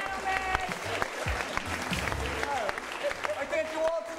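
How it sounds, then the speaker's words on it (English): An audience at an improv comedy show applauds steadily throughout, with voices and chatter loud over the clapping. "Give them a round of applause"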